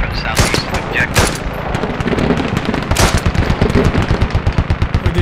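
Automatic gunfire from a gun in the tactical shooter game Squad, a loud close rapid burst of evenly spaced shots, with a few heavier cracks and a voice over it.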